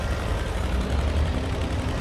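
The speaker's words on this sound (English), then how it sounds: "This is one of those McCormick and Deering Farmall tractors." A vintage McCormick-Deering Farmall tractor rolls along in a festival parade, giving a steady, low, rumbling engine drone that stays even and continuous throughout, close by and unbroken by talk.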